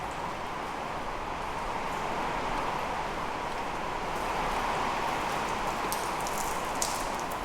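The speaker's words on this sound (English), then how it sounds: "it's quite cosy being in the workshop while it's raining outside" Rain falls steadily outside a workshop, a dense, even hiss of drops pattering on surfaces with no break and no voices.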